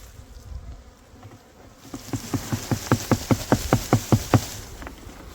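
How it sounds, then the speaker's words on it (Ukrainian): A small honeybee swarm, the remnant of a colony, buzzes as it is guided into a hive box, a soft hum rising into a steady run of about a dozen rhythmic pulses, close and clear with no talking. "Підводимо максимально під роя."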